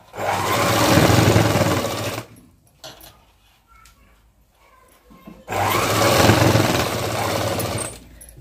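A sewing machine stitches the side seam of a long boat-neck frock in two loud, steady whirring bursts, with a quiet pause between them filled by small handling noises.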